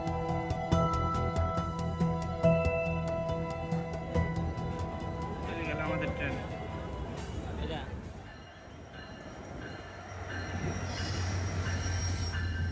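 A train rolls along the rails with loud, continuous rumble, metallic ringing and squealing wheels, heard up close with steady clatter and shifting tones, a voice speaking over it.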